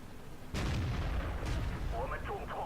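Tank cannon fire in World of Tanks, with a heavy booming shot landing abruptly and a second blast following about a second later, then fading into rumbling battle noise with faint tonal game effects.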